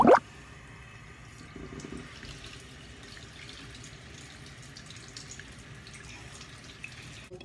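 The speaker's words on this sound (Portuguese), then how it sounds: "Nilma, Nilma, olha a água, Nilma." Water running from a tap while paint brushes are washed makes a soft, continuous trickle with light dripping, after a brief loud knock at the very start.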